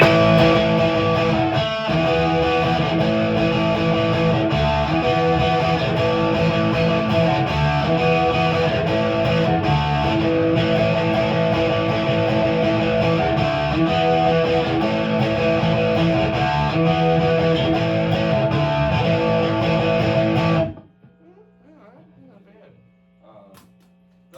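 Dense, distorted electric guitar with digital reverb, a DiPinto Orbital, plays continuously for about twenty seconds, loud and saturated, then cuts off to near silence with a faint low hum.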